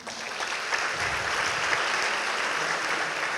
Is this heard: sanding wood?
no